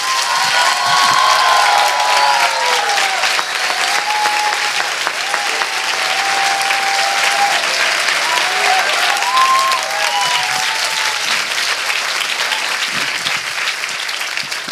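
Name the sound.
congregation applauding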